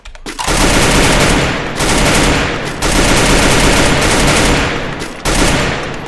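Heavy M2 machine gun fire in a multiplayer shooter game, loud sustained bursts packed with rapid shots, broken by a few short pauses between long volleys.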